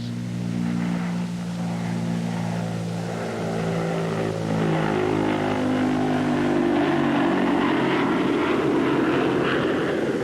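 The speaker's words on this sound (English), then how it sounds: "the big bomber is on her way. The jet engines are cut in for extra boost" A Consolidated B-36 bomber with its jet engines cut in for extra boost makes a long takeoff run under a full bomb load, a loud, steady, droning engine roar that thickens and builds throughout.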